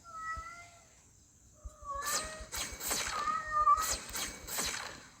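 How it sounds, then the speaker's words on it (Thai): A cat meows repeatedly, long drawn-out yowling cries, some loud and close, with quieter stretches and clicking noises between calls, in the game Blox Fruits. "เสียงแมวมาก"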